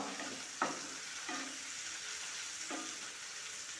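Onion and ripe tomato fry in a pan for a simple Kerala-style curry, giving a soft, steady sizzle broken by a few sharp stirring scrapes. No one talks.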